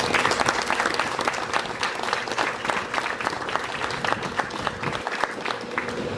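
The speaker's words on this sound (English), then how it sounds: "I'd like to give them a round of applause too." Audience applause at a company's 75th anniversary celebration, a steady, fairly close wash of clapping that holds evenly throughout with no speech over it.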